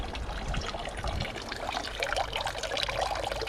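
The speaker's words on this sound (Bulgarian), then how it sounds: "има вода и дори се пълни в една кофа" Spring water trickles and pours steadily into a bucket, a close, continuous splashing fill that stays even throughout with no voices.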